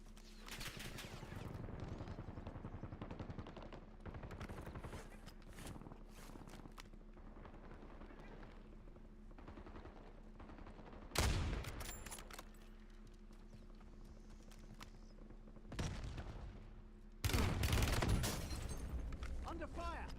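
Gunfire in Call of Duty Blackout comes in scattered bursts and a few louder cracks over a steady game backdrop, with people talking on and off.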